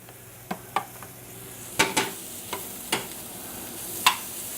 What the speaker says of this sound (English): We'll saute that up